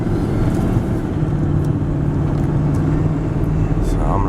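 A regular cab four-wheel-drive pickup truck with push-button four-wheel drive and automatic hubs drives along, a steady low engine and road rumble heard from inside the cab with someone talking over it.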